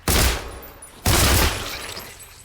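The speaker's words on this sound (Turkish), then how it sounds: "Ya hemen sıkmıyor silah böyle biraz bekliyor." Two loud, booming gunshots from a video game gun in Beneath go off about a second apart, each trailing into a long echoing decay.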